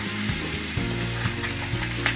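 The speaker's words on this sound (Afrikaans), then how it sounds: "Baie belangrik dat jy jou vleis bietjie braai." Venison shank meat fries in a pot, a dense steady sizzle with a few soft stirring knocks and scrapes, close and constant without any talking.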